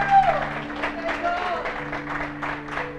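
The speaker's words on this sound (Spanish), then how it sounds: "Le va a dar un aplauso a Dios, se lo da bueno." Church congregation clapping in a burst of applause, close and fairly loud, with rhythmic waves of hands and voices calling out over a steady hum.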